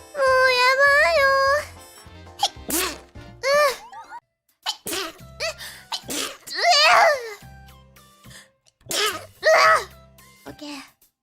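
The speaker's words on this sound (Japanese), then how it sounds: "くしゃみが出てます。" Repeated sneezes from a female streamer, several sharp bursts spread through the stretch, mixed with brief voiced sounds and talk-like vocalizing in between.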